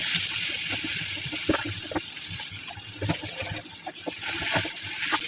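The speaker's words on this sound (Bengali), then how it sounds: "এখন মেশ করে রাখা জলপাইগুলো দিয়ে দিচ্ছি" Mashed olives go into a hot pan of fried garlic and dried chili, giving a steady close sizzle with scattered sharp crackles and small pops throughout.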